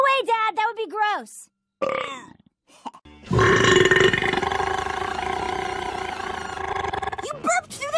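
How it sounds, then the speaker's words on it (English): A cartoon female character lets out a long, loud, rumbling burp that drags on for several seconds, coming after lines of animated dialogue and followed by a short voice at the end. "You burped through the dialogue."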